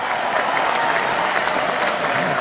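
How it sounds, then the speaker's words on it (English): A studio audience on a live TV and radio talk show breaks into dense, steady applause that holds at an even level for a few seconds. "We'll give Chris another big round of applause"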